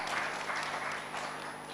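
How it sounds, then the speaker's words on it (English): An audience at a conference panel discussion applauds, a sustained, fairly soft wash of clapping from a seated crowd with no talk over it. "please, a big round of applause"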